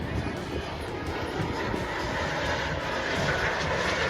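Turbine-powered model jets fly in formation with air brakes deployed, giving off a steady, fairly loud jet whine that holds evenly throughout, with no pauses or breaks.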